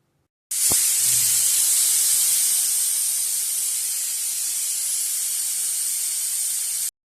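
A pressure cooker of stuffed eggplant on medium heat lets out a loud, steady, hissing steam whistle that starts abruptly and holds for several seconds before cutting off.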